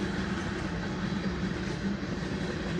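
A freight train rumbles out of the rail yard at North Platte as a steady low, distant roar mixed with heavy wind noise.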